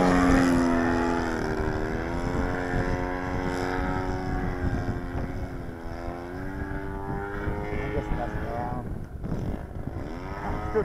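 A small petrol engine on an Extreme Flight model airplane drones steadily at close range, its buzzing pitch rising and dipping slightly with throttle changes over a constant roar.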